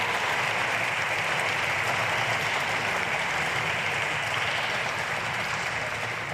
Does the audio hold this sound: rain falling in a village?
no